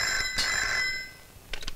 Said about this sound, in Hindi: मधु, तुम्हारी माजी का फोन.